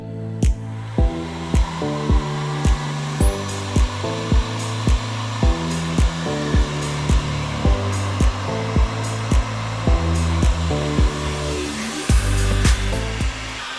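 A heat gun warms lead sheeting on a flat roof, with a constant close blowing whir heard alone and punctuated by regular sharp ticks or taps.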